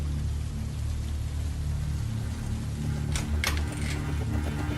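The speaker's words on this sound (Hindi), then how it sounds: "बाहर बहुत बारिश हो रही है और लगता नहीं आज रात बारिश रुकेगी" Heavy rain at night, a steady broadband hiss of falling water under a low droning hum, with a few sharper clicks or knocks near the end and no talking.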